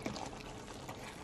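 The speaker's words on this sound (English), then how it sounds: "I think it's boiling up pretty nicely." Pot of baby broccoli boiling on a stove at medium flame: a soft, steady bubbling and low rumble, quiet and close, with no speech.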